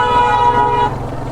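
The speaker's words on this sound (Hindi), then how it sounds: "कोई हॉर्न मारते आ रहा है, पहले इसको जाने दो।" A vehicle horn blares steadily from behind on a mountain road in Uttarakhand during a motorcycle ride, loud and continuous for about a second before it eases off, with engine noise underneath.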